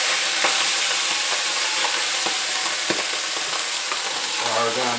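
Rice sizzling and frying in hot oil in a pan, with a steady broadband crackle and sputter and occasional sharper pops, stirring scrapes near the end, close and loud throughout.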